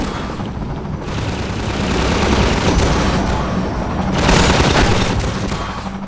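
Rocket launcher explosions and gunfire in the video game Half-Life 2 form a loud, continuous wall of booming blasts and rattling shots, swelling toward the end.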